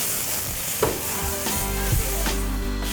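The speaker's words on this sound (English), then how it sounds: "I'm gonna add 1 espresso, a shot of Tennessee fire, give that a good stir" Softening onions with an espresso and a shot of Tennessee Fire whiskey sizzle in a hot pan while a utensil stirs, a close, steady frying hiss marked by three or four distinct scraping strokes, no talking.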